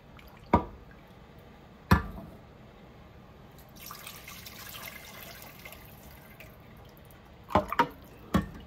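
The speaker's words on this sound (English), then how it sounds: "So basically what I'm doing is straining it twice." Beef pho broth strained through a sieve, dripping in a handful of distinct, fairly close drops spaced out between quieter stretches of trickling liquid.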